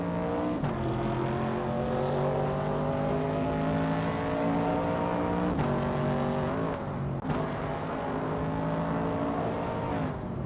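A 1968 Pontiac Firebird race car drives with a steady, sustained engine drone, its pitch shifting briefly a few times, heard alone without talk.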